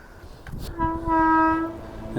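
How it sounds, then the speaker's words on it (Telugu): A train horn sounds in a long sustained blast over the rumble of a train passing close by. "అదిగోండి మనకి ట్రైన్ వస్తాడా"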